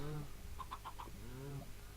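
Chickens in the Minecraft video game give a few short, quiet clucks in quick succession, heard faintly under someone talking.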